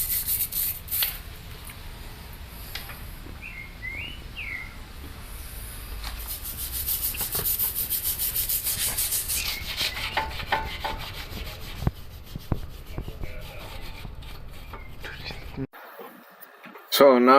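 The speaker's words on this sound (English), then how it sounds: "I'm just brushing the brake caliper." A stiff brush scrubs a dirty car brake caliper with rapid, continuous rasping strokes, close and steady for most of the stretch, while someone talks over the scrubbing.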